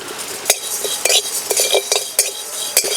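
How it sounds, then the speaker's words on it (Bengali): Metal spoon scraping and clinking in a pan as cumin seeds are stirred into frying green chillies for a rice and rui fish dish, a few sharp ticks over a soft steady sizzle. "জিরে দিয়ে একটু নাড়াচাড়া করে নিলাম"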